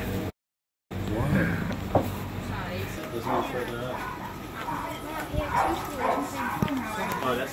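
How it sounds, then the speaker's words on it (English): Dog barking several times at moderate distance amid outdoor noise, with people talking over it. "Dog."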